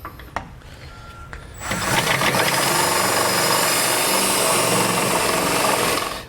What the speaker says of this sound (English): we'll just use a 1/2" drill bit, go right through the bracket